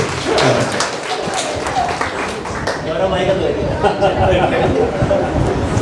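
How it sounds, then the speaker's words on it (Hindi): An audience at a comedy and music stage event applauding loudly, a thick continuous wash of clapping mixed with crowd chatter and voices throughout. "आप लोग को जोरदार तालियां बजानी है"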